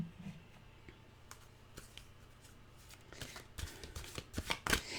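Cards from a mantra card deck being shuffled and drawn, with soft papery flicks and clicks that grow busier and louder toward the end, close by with no talk.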